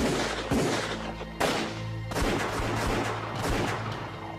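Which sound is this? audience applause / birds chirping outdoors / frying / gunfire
gunfire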